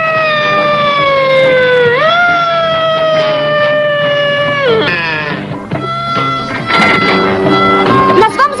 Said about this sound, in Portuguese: Toca a sirene, Cojeca.